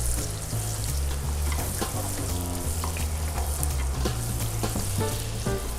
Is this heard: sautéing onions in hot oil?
yes